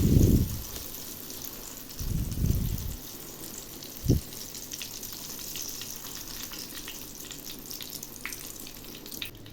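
Brinjal slices drop into hot oil, giving bursts of loud hissing at the start followed by a sharp clatter, then a faint steady sizzle with light crackles.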